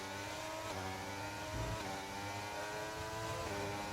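An F1 car in the F1 2023 video game, racing at Hungary, accelerating hard on the throttle, its engine a loud continuous high-revving whine with quick gear-shift steps in pitch.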